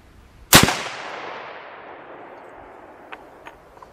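A single loud .35 Whelen rifle shot firing Remington Core-Lokt ammunition outdoors, a sharp crack followed by a long rolling echo that fades over a couple of seconds, with faint distant pops afterward.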